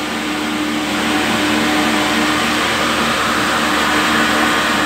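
An electric motor drives a solar-powered wheat grinder at 1500 RPM, giving a steady, loud, continuous hum and whir with a constant tone throughout.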